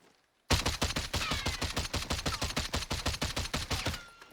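DMR fired at its fastest rate with the trigger held in Warzone, giving a loud, steady burst of about thirty sharp shots in quick succession, lasting roughly four seconds.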